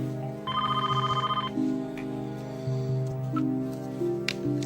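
A telephone rings in repeated electronic trill bursts, clear and moderately loud against a steady low hum, with no talking over it.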